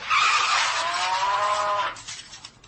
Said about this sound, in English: It's a cow being hit by a truck.